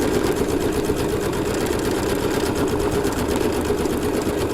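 A Bernina B790 Pro embroidery machine stitching out a design, a rapid, even mechanical chatter of needle strokes running continuously and close up with no pauses or talking.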